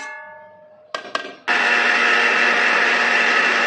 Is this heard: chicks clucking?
no